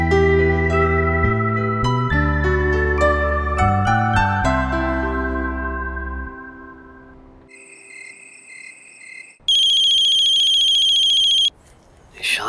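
A phone rings late at night with an incoming call: a melodic ringtone plays first, then pauses, then gives way to a continuous, bright, trilling electronic ring that stops abruptly.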